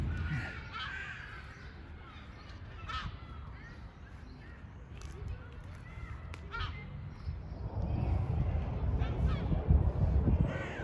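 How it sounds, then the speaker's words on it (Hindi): Crows perched at the top of a park tree in Central Park, East Ham, London, give repeated harsh caws at a moderate distance over outdoor park noise and low background rumble. "इसके आगे वो दरख्त देखिए जिसके टॉप पे बहुत सारे कौवे बैठे हुए हैं"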